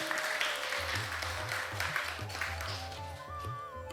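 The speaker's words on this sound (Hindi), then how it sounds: "आप सब लोग भी तालियों की गर्जना करके इस बिटिया को आशीर्वाद दे दो" An audience at a Hindu devotional gathering claps continuously to bless a young girl, a dense crackle of many hands with soft musical tones running beneath it.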